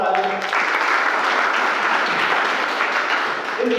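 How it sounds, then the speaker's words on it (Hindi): An audience at a college student induction programme claps loudly and steadily in dense sustained applause, with voices audible at the start and end. "एक बार जोरदार ताली।"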